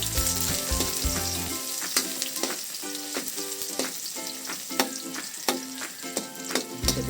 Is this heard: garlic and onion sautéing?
yes